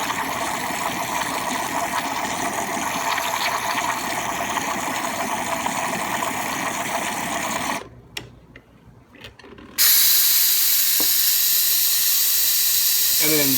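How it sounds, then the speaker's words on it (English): An espresso machine's steam wand hisses steadily while frothing milk for an Irish cappuccino, breaking off into a brief near-silent gap before surging back in louder, a harsh, continuous close-up roar. "release the steam before you take this off because it's under pressure"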